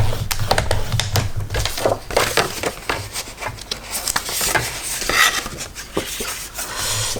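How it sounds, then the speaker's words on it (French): Tapping and scraping of a tool scoring a 9 mm fold line into paper for an album page, a steady run of close, light clicks and scratches with no talk. "Je vais faire mon pli"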